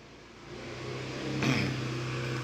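A motorcycle approaches and passes at night, its engine whine rising to a peak at mid-clip and then holding at a moderate distance over background hum.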